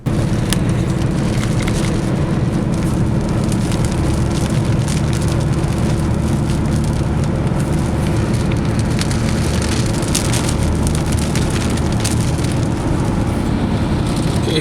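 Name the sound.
rain and hail during storm chase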